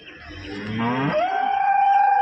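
A cow at a cattle market gives one long, loud, close moo that starts low and rough, then rises into a sustained nasal tone that holds to the end.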